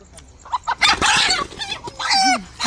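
Free-range country hens cluck and squawk close by in short, uneven bursts, with rustling and handling noises between the calls.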